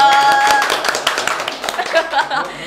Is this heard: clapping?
yes